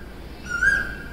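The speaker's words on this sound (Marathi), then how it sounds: "किती छान पक्षी," A single bird calls once in the early morning outdoors, a short clear whistled note rising over faint background ambience, moderately distant and alone.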